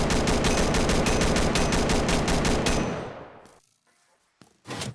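Rapid automatic gunfire from a favourite weapon in a PvP video game, a loud sustained burst of evenly spaced shots lasting about three seconds, then fading, followed by a couple of short sharp reports.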